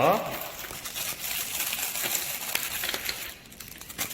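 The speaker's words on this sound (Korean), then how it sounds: "자, 비닐을 벗기시고요" Crinkling plastic wrapping being peeled off a magic cube kit and crumpled, close and continuous, with soft crackles throughout.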